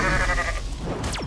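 A snail goat in the Goat MMO Simulator video game bleats loudly and up close, a single drawn-out wavering bleat that ends in a quick rising squeal.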